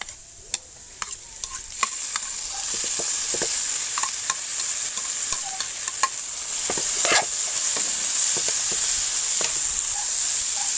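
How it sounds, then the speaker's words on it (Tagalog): Potatoes sautéing in a pan give a bright, continuous sizzle that swells after the first couple of seconds, broken by sharp scraping and tapping strokes of stirring, up close. "So igigisa natin itong mga kasarap yung patatas hanggang maluto."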